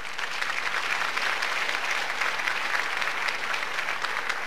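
Steady applause from a concert audience fills the room, dense and continuous clapping throughout with no break or talk.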